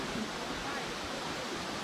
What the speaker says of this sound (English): I think this is actually the main waterfall